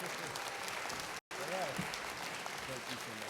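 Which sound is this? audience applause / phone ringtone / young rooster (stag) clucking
audience applause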